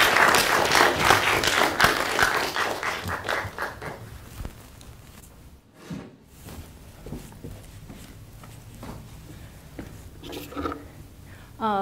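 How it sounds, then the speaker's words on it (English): A lecture audience claps warmly, a dense burst of applause that thins into scattered claps and fades out, with a quieter patch of claps returning near the end. "let me give a very warm applause back to Gigi Lu."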